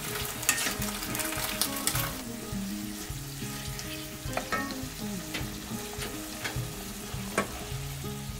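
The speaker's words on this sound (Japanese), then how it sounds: "油揚げと小松菜を一緒に炒めていきます。" Aburaage fried tofu and komatsuna are stir-fried together in simmering sauce over medium heat, a soft, steady sizzle with scattered scraping and stirring clicks from utensils, close but fairly quiet, with no speech.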